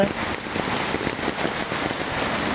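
Heavy rain pours down steadily in a dense, unbroken hiss, loud and close, with patter on surfaces throughout and no voices.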